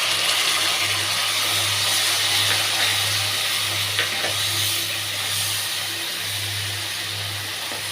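Tomato paste with cumin and spices being stirred and fried in a pan for a Bengali dhokar dalna, giving a steady close sizzle with a low hum running underneath throughout.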